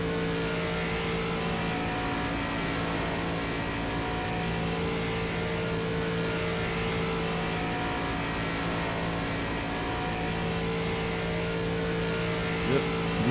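ARCA stock cars racing at Daytona, a steady, loud engine drone holding sustained tones for the whole stretch with no clear pass-bys, ending in a brief rising whine near the close.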